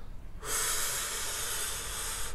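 A single slow, steady inhale during a guided breathing exercise, close and breathy, rising after a brief pause and sustained as a soft hiss to the end.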